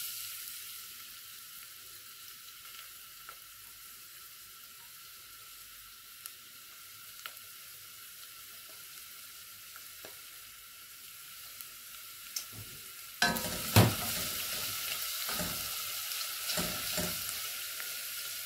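Hot oil heats quietly in a pan for a mixed vegetable soup, then garlic drops in and a bright, loud sizzle bursts up near the end, close and without talk.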